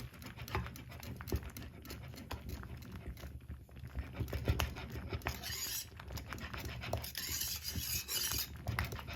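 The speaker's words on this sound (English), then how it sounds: "and some vanilla, and whisk it up" Plantain porridge flavoured with vanilla being whisked in a pot in a Jamaican kitchen, a continuous quick rasping and patter of the whisk against the pot, close and fairly quiet with no talking.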